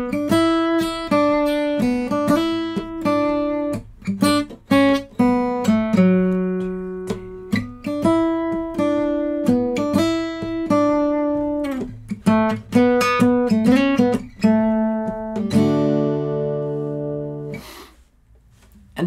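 A guitar plays a song's chorus alone: a lively run of clear picked notes and short chords in a bouncy rhythm, ending on a held chord.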